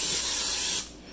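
Cooking spray hisses from an aerosol can onto a crock pot for a garlic-crust dump pizza, one steady close burst lasting most of a second before cutting off.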